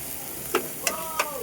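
Garlic and onion sauté in a pan with a steady hiss of sizzling, broken by three light clinks of a utensil against the pan.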